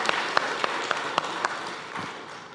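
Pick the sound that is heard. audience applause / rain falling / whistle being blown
audience applause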